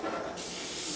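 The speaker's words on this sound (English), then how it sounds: "You just spray it lightly in" Cooking spray hisses steadily from a can into a brownie pan in one continuous close burst that brightens partway through.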